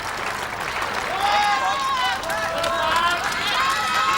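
A crowd at a World's Strongest Man heat roars and cheers steadily, with a commentator talking over the noise.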